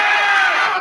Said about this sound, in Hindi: जो भारत की हत्या की बात पर कांग्रेस पार्टी ने ताली पीटी आज इस सदन में